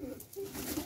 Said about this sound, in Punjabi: ਇਹ ਗਾਲੜ ਕਬੂਤਰ ਆ